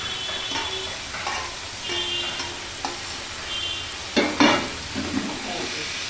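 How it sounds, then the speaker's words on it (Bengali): Spices stir-fried in a pan as the base for a bhetki fish bone curry, a continuous sizzle with scraping stirs and a few sharper clatters near the end, no voices. "এবার এটা ভালো করে কষাতে হবে।"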